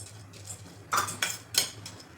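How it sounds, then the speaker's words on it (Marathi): Pumpkin seeds dry-roasting in a heated pan over medium flame, heard as a few quiet, distinct clinks and scrapes of a spatula against the metal, spaced out over a couple of seconds. "आपण पॅन ठेवला आहे तापण्यासाठी अगोदर हे पंपकिन बी जे आहे ते भाजून घ्यायचं आहे"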